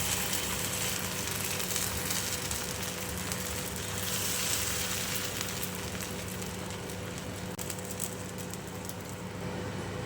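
Thin instant breakfast batter hisses and sizzles steadily in a lightly oiled pan, a close, continuous crackling fry with no talk over it.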